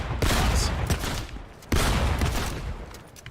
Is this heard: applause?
no